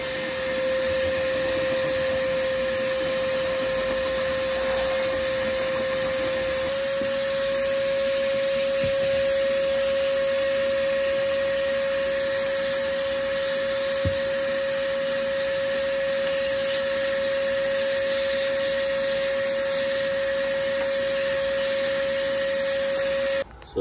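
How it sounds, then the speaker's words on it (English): A vacuum blower runs steadily and loudly while blowing dust out of a gaming PC, a constant high whine that holds for the whole stretch before cutting off at the end. "So we're gonna use this to blow the dust out and then vacuum."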